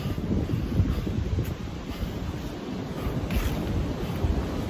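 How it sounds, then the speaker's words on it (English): Steady wind roars across an exposed stretch of the Furnace Mountain and Big Run trail, a continuous loud low rumble of gusts buffeting the microphone with no voices. "And you can hear the wind."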